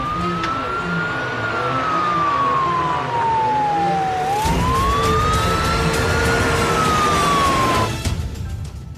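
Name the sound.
police car siren approaching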